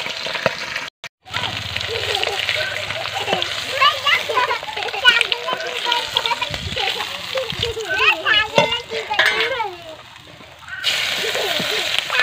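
Onion and chili tipped into a hot frying pan give a sustained splashing sizzle through most of the stretch, with a brief break near the start, while someone talks over it.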